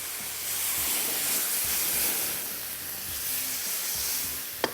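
Chicken with tomato puree fries in a pan, giving a strong continuous hissing sizzle up close that swells and eases gently, ending with a sharp clink.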